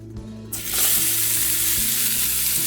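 Onions hit hot oil in a heavy-bottomed pan, setting off a sudden, loud sizzle that holds steady, with a low hum underneath.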